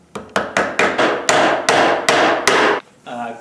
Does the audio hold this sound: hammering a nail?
yes